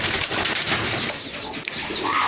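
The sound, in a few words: pigeons cooing on a poultry farm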